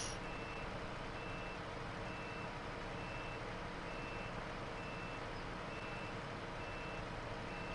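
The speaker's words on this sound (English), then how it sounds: "I can hear the beeping of your reversing signal just going quieter and quieter" A truck's reversing alarm in the Snowrunner video game beeps in a steady, evenly spaced series, faint and constant under a broad rumbling engine drone, with no talking.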